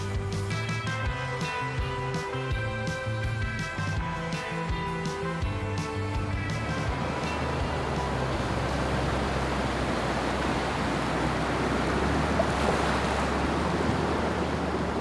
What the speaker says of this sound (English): letting that water flow all around our feet